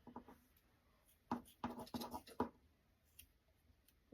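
A few quiet, crisp snips of scissors cutting through yarn, clustered close together against a near-silent background.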